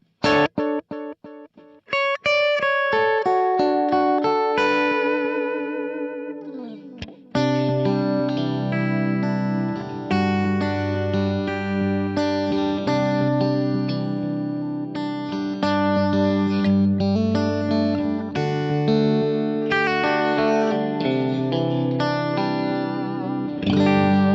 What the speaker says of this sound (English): Really dark, but you can still hear that sort of present percussiveness of that delay of the repeat.